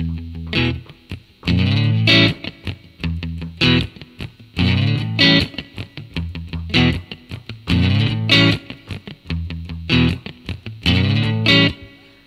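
Heavily distorted electric guitar plays a chugging rhythm: tight muted low bursts alternating with loud, ringing power chords in a repeating pattern.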